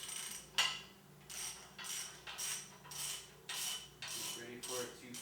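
A ratchet wrench loosening a nut on a 240SX roll cage main hoop tube, with a series of fairly faint rhythmic clicking strokes in a quiet workshop.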